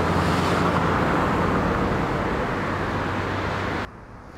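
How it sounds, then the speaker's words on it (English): Busy street traffic on a boulevard, a loud constant roar of passing vehicles that cuts off abruptly near the end. "Tone down that traffic noise?"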